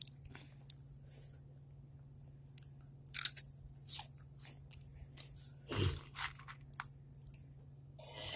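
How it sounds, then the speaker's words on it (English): Crunchy hot chips being eaten during a hot chip challenge, with scattered close crunches and bites amid quiet chewing and a low steady hum. "it's basically just me eating hot chips"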